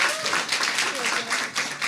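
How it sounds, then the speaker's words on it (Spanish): Audience clapping for a Chilean writer at a school event, a steady patter of hands across the whole stretch with faint voices mixed underneath. "pedir un aplauso"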